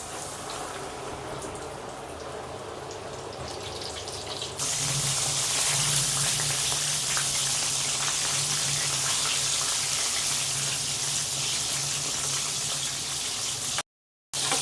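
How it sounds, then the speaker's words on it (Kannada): Chicken pieces deep frying in hot oil for a cheesy chicken mac and cheese with fries, a steady loud sizzle that starts abruptly partway through and continues without pause. "ಎಣ್ಣೆ ಕಾದಿದೆ, ಈಗ ಫ್ರೈ ಮಾಡ್ಕೊಂಡು"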